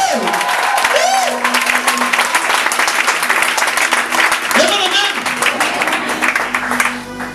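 A church congregation applauds during a sermon with loud, sustained clapping throughout, while a voice carries over it near the start and again midway.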